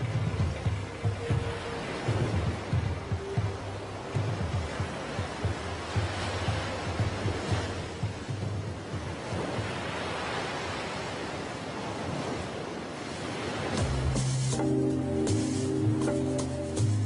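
Surf breaks against a rusting shipwreck off the Tunisian coast near Cap Bon, a broad continuous wash of waves with wind noise, steady and fairly soft, with music entering near the end.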